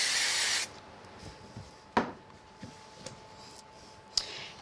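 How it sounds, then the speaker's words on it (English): A light spray of pigment stain hits card for about half a second, a loud broad hiss, followed by a few faint taps and rubbing sounds in a quiet room. "now I'm just going to give it a light spray right onto the side I was working with"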